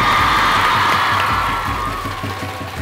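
An audience of schoolgirls' peers cheering, whooping and clapping after a girls' dance performance at a college event, a loud sustained crowd roar with shouts on top that slowly eases off.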